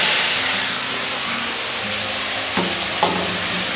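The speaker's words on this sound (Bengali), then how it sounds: "এবার কেটে রাখা টমেটোগুলো এর মধ্যে দিয়ে দেব" Chopped tomatoes hit hot tempering oil for a fish head curry, a loud steady sizzle and crackle with a couple of sharp stirring clinks near the end.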